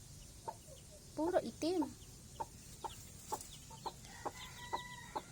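Black chicks peeping near a hen, a run of short, evenly spaced high chirps with a brief burst of clucking early on, and a voice speaking briefly.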